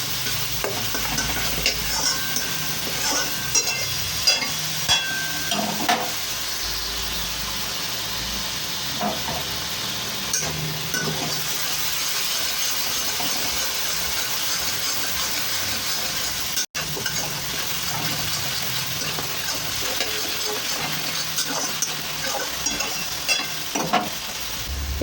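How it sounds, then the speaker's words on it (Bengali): Onion paste sizzles and fries steadily in a hot pan for Bengali jackfruit-and-prawn curry, with a spoon scraping and stirring through it in repeated strokes, close and fairly loud, no talk. "তো পেঁয়াজ বাটা দিয়ে একটু নেড়ে চেড়ে নেব ভালোভাবে।"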